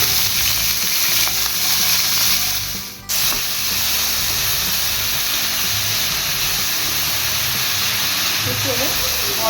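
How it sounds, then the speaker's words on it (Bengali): Long beans sizzling in hot oil in a home kitchen pan, a steady bright hiss of frying throughout with a brief dip partway, light stirring noises underneath. "বরবটিগুলোকে ভেজে নেব।"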